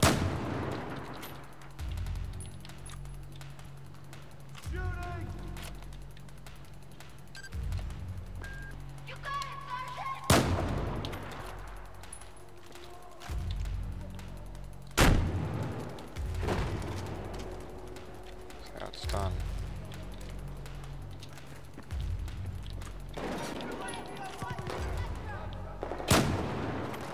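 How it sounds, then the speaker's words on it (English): Gunfire in the Battlefield 4 video game, Singapore level, with irregular loud shots and heavy booming blasts spread across the clip, some close and some echoing farther off. "Shooting!"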